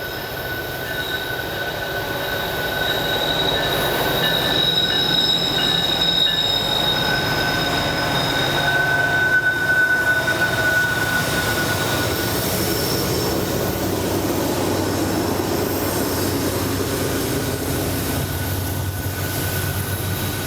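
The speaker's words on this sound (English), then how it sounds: "I was fortunate enough to have an eastbound Union Pacific freight train come along, working its way uphill." An eastbound Union Pacific freight train labours uphill near Bloomer Cut, a steady loud rolling rumble of wheels and cars with high squealing wheel tones throughout, no voices.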